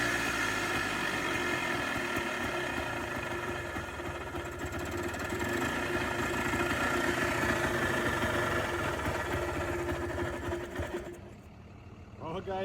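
Polaris Trailboss 250 4x4 ATV engine idles roughly and continuously up close, a steady loud chugging with faint knocking that dips briefly near the end.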